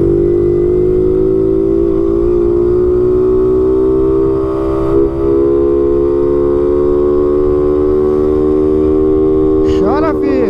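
A Honda Biz 125 motorcycle, over five years old, holds a steady, close engine drone that climbs gradually in pitch, then flares into a sharp rev near the end.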